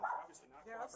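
Dogs barking and yipping at a house during a tense encounter, short bursts near the start and end with people talking over them.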